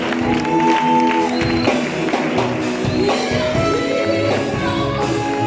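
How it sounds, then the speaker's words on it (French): A church congregation cheers and shouts in acclaim of Jesus, a loud, sustained mass of voices with whoops and ringing tones blending together, steady throughout. "Acclame Jésus très fort."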